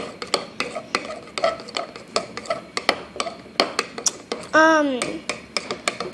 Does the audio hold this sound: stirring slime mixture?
yes